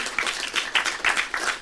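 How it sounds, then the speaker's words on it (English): Modest audience at an education forum claps for a guest, a brief burst of distinct, fairly sparse handclaps with uneven rhythm, moderately loud and close. "A round of applause for Dr."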